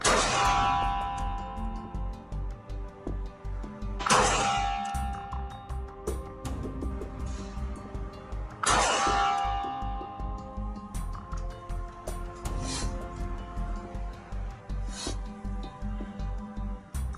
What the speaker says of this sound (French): Tir sur gong à 25 mètres.